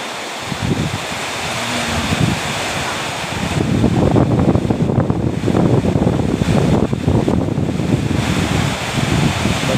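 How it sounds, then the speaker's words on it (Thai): Storm wind and rain at dusk in Nakhon Phanom, Thailand, a loud continuous roar of gusting wind buffeting the microphone. Heavy rain noise swells and grows denser toward the middle and stays strong to the end. "ตอนนี้ฝนมาถึงละ ลมเริ่มสางนิดนึง"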